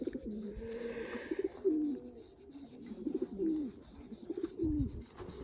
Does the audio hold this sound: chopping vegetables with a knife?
no